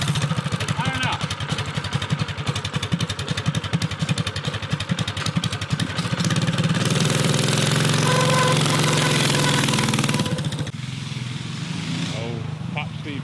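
A mini bike's small engine runs loud and close with a steady rapid pulsing beat, rising to a harsher roar partway through before easing back; voices can be heard under it.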